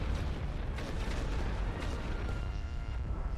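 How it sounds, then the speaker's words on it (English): Artillery keeps pounding in The Great War: Western Front, heard as a dense, continuous roar of overlapping booming explosions that stays loud and steady throughout with no pauses. "Considering how relentlessly the artillery is hitting us"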